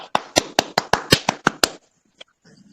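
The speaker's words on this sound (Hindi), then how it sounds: "अगर आपको अच्छा लगता है तब ताली बजाकर इनका स्वागत करें।" Nine sharp, evenly spaced claps from an audience welcoming three people, a short loud burst of rhythmic hand claps that stops abruptly, followed by near silence and a faint low rumble.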